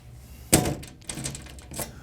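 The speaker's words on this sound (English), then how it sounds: "We take our flat silver key, unlock the main ballot bin, open the door, verify that there are no ballots." Key unlocking and door opening on the main ballot bin of a DS200 voting machine: one sharp loud metallic clunk, then quieter rattling and a softer latch knock near the end, close by.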